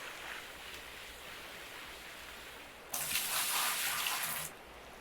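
A bucket of water is poured out while panning for gold at a dirt claim, a loud broad rushing gush that starts abruptly after a quieter stretch of background noise and runs for about a second and a half before stopping.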